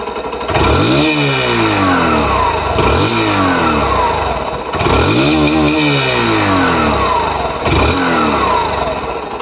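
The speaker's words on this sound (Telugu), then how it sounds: "సో ఇప్పుడు ఈ బైక్ యొక్క ఎగ్జాస్ట్ సౌండ్ విందాం." A 2023 Hero Glamour 125 i3S motorcycle revs close by, its exhaust rising and falling through four throttle blips over a steady idle, loud and alone.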